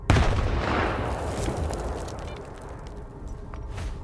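A grenade goes off in the game Stalker 2 with a loud, close blast that rumbles on and slowly decays over several seconds of lingering debris noise.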